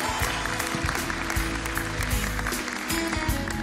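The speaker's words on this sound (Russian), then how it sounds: "Аплодисменты!" Applause from a theatre audience at a televised talent show, a steady wash of clapping with music sustaining underneath, fairly close and unbroken.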